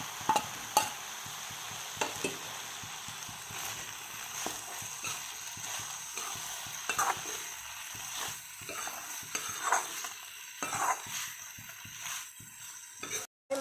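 Spices of ground coriander, cumin and red chili stirred in a frying pan, a steady scraping and sizzling with repeated spatula strokes close up, no talking.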